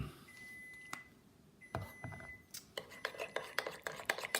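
A spoon scraping and clinking in a bowl as honey and mustard are stirred into a dipping sauce, starting with a few taps, then a quicker run of rhythmic scrapes, close and fairly soft, with faint beeps early on.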